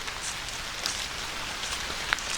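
Steady rain falls at a campsite in French Creek State Park, Pennsylvania, a constant close hiss of drops with a few brighter ticks against it.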